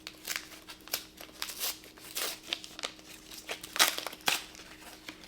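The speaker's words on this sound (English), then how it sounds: "rip the paper" Wrapping paper being torn and crinkled off a wrapped book, a close series of sharp rips and rustling crackles with brief pauses between pulls, no talking.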